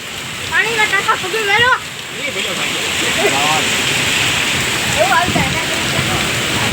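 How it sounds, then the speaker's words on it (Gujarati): Heavy rain pours steadily and loudly in a sudden windstorm, with a person's voice calling out over it near the start and again briefly later. "અચાનક વાવાઝોડું આવી ગયું"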